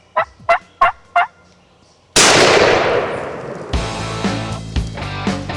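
Wild turkey gobbling during a hunt: four short, sharp gobbles ring out in quick succession, then a loud gunshot blast cracks and decays into echoing rumble and rustling.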